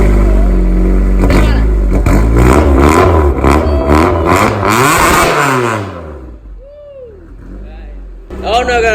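A Honda Civic EM2 with a K20 engine swap revs hard on a pre-turbo test drive, its engine note surging up and down loudly for several seconds before dropping away to near quiet and returning at the end.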